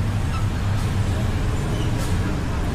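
Steady roadway rumble of heavy Manila traffic with a lane closed, engines idling and moving, a distant honk or two, continuous and fairly loud.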